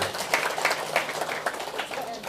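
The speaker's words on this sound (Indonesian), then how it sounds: "Tepuk tangan untuk dia." An audience at an outdoor Sunday morning religious gathering applauds, a couple of seconds of uneven, thin clapping with scattered claps, moderately loud and close, faint voices mixing in.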